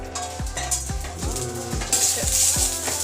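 Chicken frying in hot oil, a bright steady sizzle beneath repeated knocks and scrapes of a utensil stirring in the pan, about one every half second, close and fairly loud.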